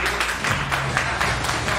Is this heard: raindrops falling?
no